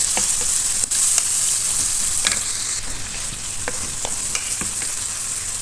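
Onions and tomato pieces fry in the oil left from frying brinjals, giving a steady close sizzle with scattered stirring clicks and scrapes throughout, no voices.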